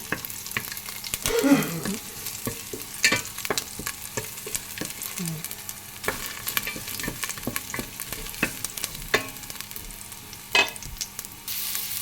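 Garlic fries in hot cooking oil for a sinabawang dish, a steady close crackling sizzle with occasional sharper pops and stirring scrapes, no talking.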